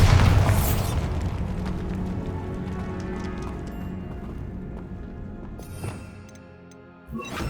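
A Bombarda spell explosion in the video game Hogwarts Legacy: one loud, sharp blast at the start that rumbles and slowly fades, with a smaller bang near the end.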